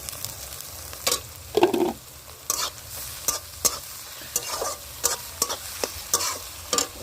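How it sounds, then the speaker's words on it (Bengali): Garlic and chopped ginger fry with onions for chicken kosha, a soft sizzle broken by repeated scraping stirs of a spoon in the pan, close and irregular. "এবার এর মধ্যে দেবো আমি দেখো রসুন আর আদা কুচি।"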